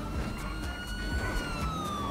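Police sirens in the GTA V game wail steadily over a rumbling backdrop of vehicle engines and street noise, the tone gliding slowly downward as the cars move.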